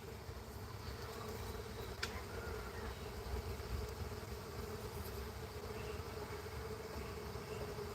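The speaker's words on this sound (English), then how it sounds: "A lot of the bees are fanning on the front," A dense, steady buzz of many honeybees fanning at a hive entrance hums continuously at close range, a low droning mass of wings with no pauses.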